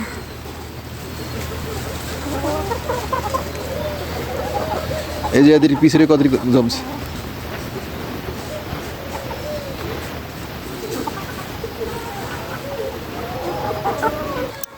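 Free-range Sonali chickens in a netted garden cluck and murmur throughout, with a brief louder flurry partway through, while someone talks over them.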